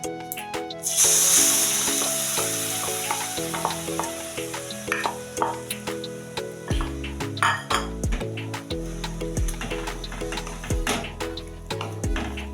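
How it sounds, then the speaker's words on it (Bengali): Carrot paste for carrot rasmalai sizzles in a pan while being stirred, with repeated scraping strokes and light metallic clinks of the spoon against the pan, close by, under background music. "এটা আমি এইভাবে একটু নেড়ে নেব গাজরের জলটা যেমন শুকিয়ে যাবে"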